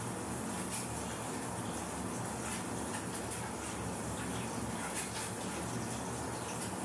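Cooking oil poured from a jar into a pan in a home kitchen while preparing egg curry, giving a steady, continuous liquid gush that runs evenly for several seconds at moderate level with no talk.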